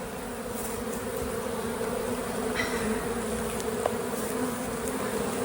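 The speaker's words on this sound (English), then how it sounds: "Okay, so there's still bees up here." Bees buzz in a steady, droning hum, with many insects close by and individual buzzes flicking in and out.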